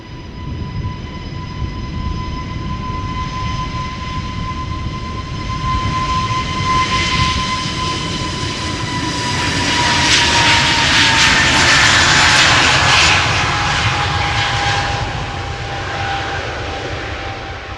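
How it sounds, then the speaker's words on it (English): A British Airways Airbus A321neo bound for London Heathrow departs Schiphol with a loud, sustained jet engine roar, a steady whine riding over it, the noise swelling to a peak as the jet passes close and then easing slightly. "BA flight 431 to London Heathrow. It's an A321 Neo, 5 years old, first flight November 2018."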